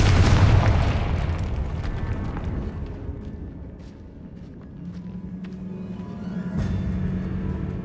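A Confringo fire spell explodes in Hogwarts Legacy: a loud, close boom opens and rolls into a long, fading rumble, followed by faint debris and scattered ticks.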